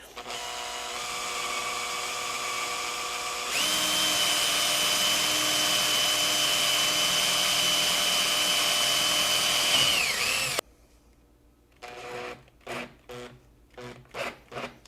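A power drill whirs steadily, then its pitch rises as it bores into material for several seconds before stopping, followed by a few short bursts.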